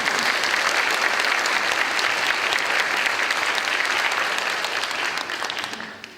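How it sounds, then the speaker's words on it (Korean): A church congregation applauds mothers during a Parents' Day Sunday service, dense sustained clapping from a full room that carries evenly and then tapers off at the end, with no talk over it. "우리 그렇게 생각하시는 분만 어머니들께 격려에 감사의 박수를 드립니다."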